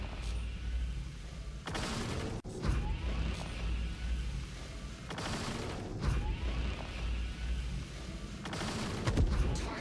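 A Banu Defender ship fires its Singe weapons in Star Citizen, sustained loud bursts of energy-weapon fire in repeated volleys of a second or so over a constant engine rumble, with occasional crashes.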